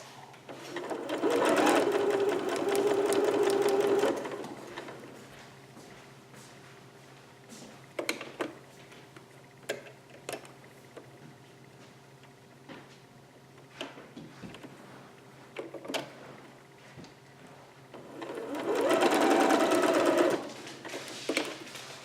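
A sewing machine stitches a seam on a Vogue 8280 pattern garment, running in two steady close bursts at the start and end, separated by a quieter stretch of small handling clicks and fabric taps.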